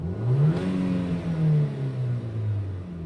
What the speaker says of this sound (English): Just give it a rev one more time so you can see it going up.